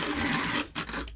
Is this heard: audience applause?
no